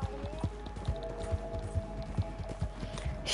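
Galloping horse in Red Dead Redemption 2, its hooves striking in an even, repeating rhythm of muffled thumps, fairly close, with a low tonal drone running underneath.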